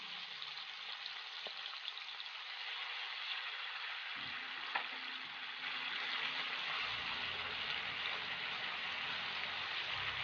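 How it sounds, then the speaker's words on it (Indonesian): Red chilies sautéing in a pan for tongkol balado, a steady fine sizzle and crackle that grows fuller midway as the ingredients hit the hot oil, with no voices. "Lalu masukkan cabai merah, kita tumis."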